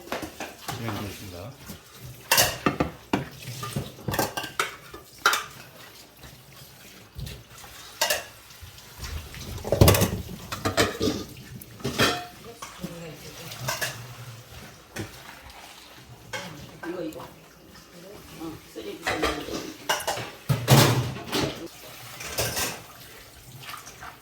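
Dishes being washed after a shared meal at a village volunteer lunch service: repeated clinks and clatters of plates, pots and cutlery with running water, irregular and fairly close, under intermittent talk.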